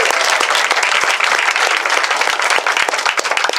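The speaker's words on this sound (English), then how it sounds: "Round of applause for the boys, please." Guests at a wedding dinner applaud the groomsmen, a dense, steady round of clapping from a full room that carries loudly through the whole moment without any voices on top.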